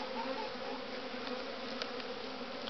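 Dark European honey bees buzz steadily around wild comb hanging from hive frames, joined with brace comb; a continuous close hum fills the clip without pause.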